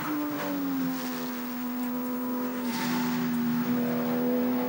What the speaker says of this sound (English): the Porsche GT3 Cup number 41